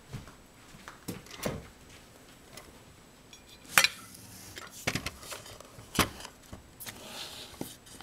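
A spoon clinks and taps against a container of tea leaves, giving several sharp, separate knocks spaced irregularly over a quiet room background.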